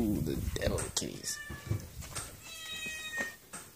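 Several cartoon cats meow and caterwaul in quick, overlapping cries, close and loud, mixed with talking voices.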